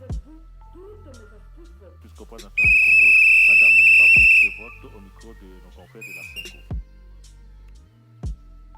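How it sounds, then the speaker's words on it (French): A single loud, shrill whistle blast lasting nearly two seconds, with a shorter fainter whistle later, amid quiet background voices and clatter, at a morning wake-up call in a children's shelter. "un coup de sifflet retentit à 7 heures"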